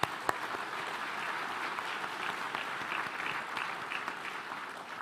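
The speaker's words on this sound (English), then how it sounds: "I want to give her another round of applause" Audience applause at a club centennial dinner, a steady patter of many hands clapping indoors. The clapping holds fairly even for the whole stretch and drifts slightly softer at the end.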